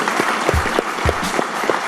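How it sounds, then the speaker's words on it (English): An audience applauds at the close of an event, with loud, steady clapping running throughout and some individual claps standing out near the front. "please give them a round of applause"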